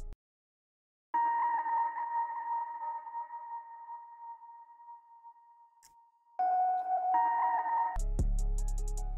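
A soft electric-piano melody from the Sona Rhodes preset in a Contact composer toolkit, sustained tones fading slowly and then a second phrase, ending in a sudden low burst with clicks, alone and fairly quiet.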